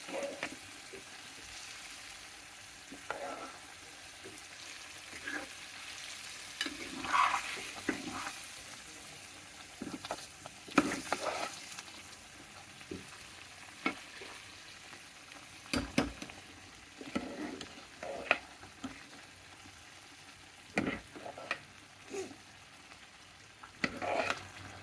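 Bisibele bath, a Karnataka sambar rice dish, stirred and frying in a pan, with steady soft sizzling broken by repeated scraping spoon strokes, close and moderately quiet, no talking.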